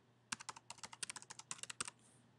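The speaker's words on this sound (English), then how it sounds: "I'm going to type in a password." A password goes in on a computer keyboard: a quick run of around twenty soft, close key clicks in an uneven rhythm, quiet and without talking.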